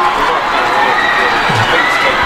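A high school football crowd at a New Albany vs. Providence game cheers after a touchdown, a steady broadband roar of voices filling the stands at close range, with faint voices mixed in.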